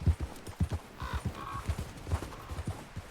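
Horse hooves clip-clop in a steady, rapid rhythm through Red Dead Redemption 2, clear and close throughout the three seconds with no talking.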